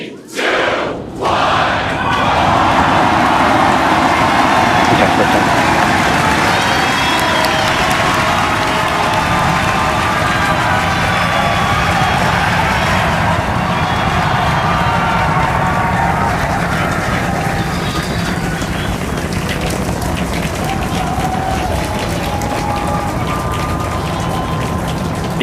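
SpaceX Starship Super Heavy rocket on its sixth flight roaring at liftoff, a loud sustained rumbling crackle that builds and holds at full force and swamps everything else.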